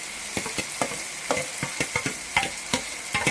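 Onion paste sautéing in a pan while being stirred for a white gravy, with a steady soft sizzle broken by repeated scraping taps of the utensil, close and moderately quiet, no voices.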